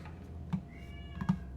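A cat meows twice, short and close, with a faint tonal whine in between over a quiet room, in the video game The Outer Worlds.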